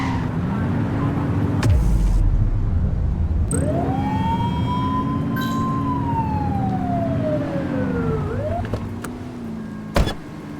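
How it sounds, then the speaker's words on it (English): A police car siren in the video game The Precinct wails in a long rising and falling sweep over a steady engine hum, with a few sharp clicks and thumps around it. "They won't know if you want to pull them over if you don't turn your siren on."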